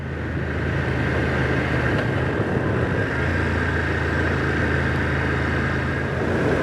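A 2025 BMW F900R motorcycle riding through corners, a steady loud engine drone mixed with heavy wind rush, continuous without breaks.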